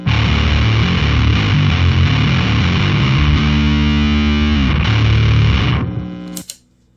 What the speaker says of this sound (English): And then here's my real fuzz.